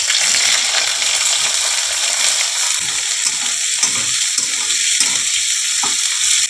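Chopped onions sizzle steadily in hot mustard oil with nigella seeds, a continuous close frying hiss with occasional light clinks and stirring scrapes, no voices.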